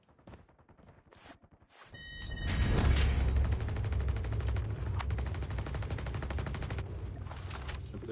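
Sniper rifle fire in Call of Duty Mobile on the Alcatraz map: a few quiet clicks, then a sudden loud blast about two seconds in. It turns into a dense, continuous barrage of rapid gunfire that keeps going to the end.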